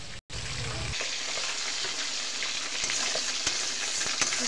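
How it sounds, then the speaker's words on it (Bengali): Dry lentils (dal) fry in a pan, a dense, continuous sizzle close up with stirring scrapes and small pops throughout, and no voices. "তো ডালটা আমি আগে ভেজে নিচ্ছি।"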